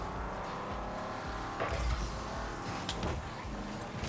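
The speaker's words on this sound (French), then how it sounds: "c'est peut-être le bruit de la voiture qui a perturbé tout le monde" A car engine drones steadily with tyre squeals and short rushing swells in the video game Rocket League, playing at moderate volume.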